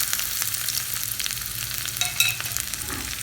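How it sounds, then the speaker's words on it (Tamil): Mustard seeds, dried chilli, onion and curry leaves sizzle steadily in hot oil for a Tamil chicken-bone lentil curry tempering, a close, even hiss with faint popping and no talk. "கடுகு போட்டுக்கோங்க. கடுகு நல்லா பொரியட்டும். கூடவே ஒரு காஞ்ச மிளகாய்,"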